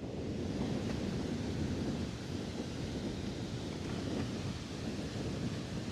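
The Bhoot Chhanga waterfall in Sindhupalchok roars continuously up close, a deep, steady rushing wash of falling water with no pauses and no voices.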